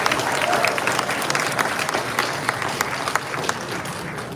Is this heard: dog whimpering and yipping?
no